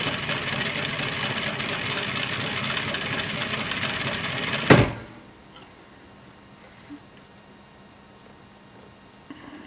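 A sewing machine runs in one steady, loud, close stretch while feeding fabric for a pattern sew-along, then stops abruptly with a clunk, leaving near silence with faint ticks.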